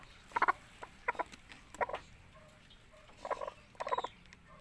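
Chickens on a farm where hens are laying eggs, giving short clucking calls in small bursts, moderately near with quiet pauses between them and no talking.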